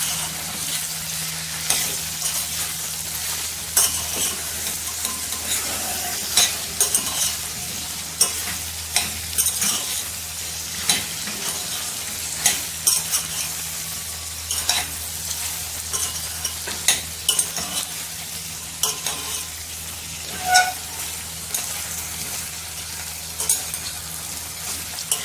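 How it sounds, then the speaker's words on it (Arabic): Beef tripe and intestines stir-fry with black pepper in a hot pan, sizzling steadily with a low hum beneath as a utensil scrapes and clacks at irregular intervals, close and fairly loud. "ورشه فلفل اسمر واشوح بقى كويس كده"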